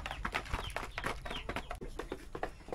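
Hens and roosters clucking close by in quick, overlapping bursts, a busy flock of chickens with short repeated calls throughout, moderately quiet.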